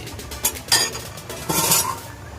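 A metal pot is covered with its lid while sinigang cooks, two bright clanks of lid on rim close together, then a brief scrape and settle.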